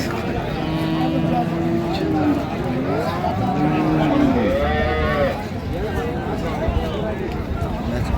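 Cows and calves at a rural cattle market in Dinajpur moo in low, drawn-out calls amid a crowd's constant chatter and bargaining voices that largely mask them.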